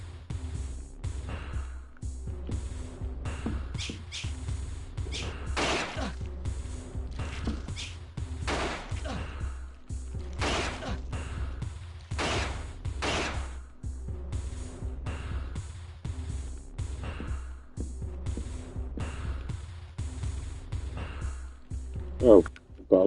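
Intermittent gunshots in the survival horror game Alone in the Dark: The New Nightmare, spaced bursts over a low throbbing hum, with speech at times.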